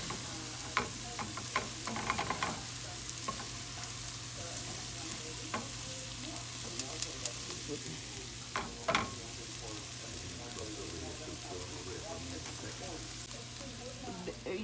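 Kitchari grains fry and are stirred in a pan with oil or ghee, making a constant crackling sizzle broken by scraping stirring clicks, with a low steady hum underneath.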